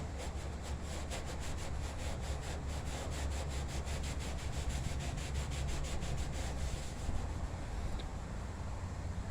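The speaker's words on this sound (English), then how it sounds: "you just want to basically scrub off all the excess" Steady rhythmic scrubbing of a cloth rubbing excess Ospho off a metal surface, with light pressure worked into deeper spots; a continuous close, even rasping that runs throughout, no voices.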